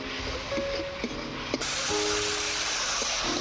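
Turmeric, cumin, coriander and chili powder hitting a hot pan with a splash of water, a broad steady sizzle and hiss that jumps louder partway through and continues, with faint kitchen clinks underneath.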